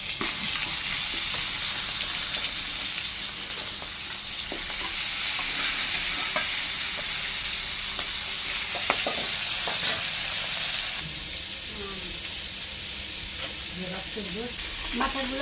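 Fish heads fry in hot oil, giving a dense, close sizzle with occasional scrapes and knocks as they are stirred. Toward the end the hiss eases and brief bubbling pops come through.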